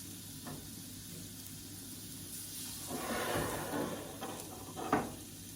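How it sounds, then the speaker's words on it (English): Steak sizzles on a hot surface inside an Ovana pizza oven, a steady soft crackling hiss that swells in the second half with a few sharper pops, heard faintly with no talking. "Oh, hear that sizzle."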